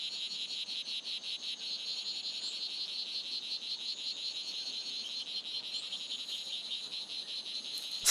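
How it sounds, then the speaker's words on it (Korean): A male strawberry poison dart frog calls in a rapid, high buzzing trill, repeating evenly and continuously at close range, with faint insect-like hum in the background. "수컷은 암컷의 관심을 끌기 위해 울음주머니를 크게 부풀린다"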